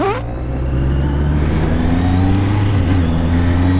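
Honda CBR650F motorcycle with stock exhaust idling and revving, a steady droning engine note that rises slightly in pitch, loud and close, with no talk.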